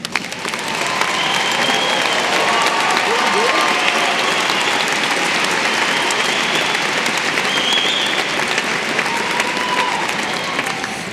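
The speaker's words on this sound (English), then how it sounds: "Please join me in giving a round of applause for our honors graduates as they stand." A large commencement crowd at the University of Arizona's Eller undergraduate ceremony applauds its honors graduates as they stand, loud sustained clapping swelling in and holding strong with faint cheers mixed through.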